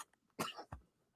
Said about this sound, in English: we're back to old faithful, which is the coughing